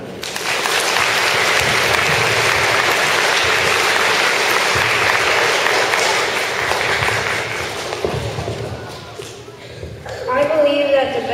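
A school assembly audience claps loudly and steadily for about nine seconds before the applause tapers off, followed by a brief spoken voice at the end.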